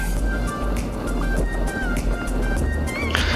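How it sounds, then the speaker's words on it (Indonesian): Honda motorcycle rolling down a steep hot-mix asphalt road on the Gentong bends near Tasikmalaya, West Java, engine braking with a steady low drone and road rumble, a passing vehicle whining by near the end. "Saat kita menurun menggunakan motor Honda, tentunya kita juga menggunakan efek rem mesin"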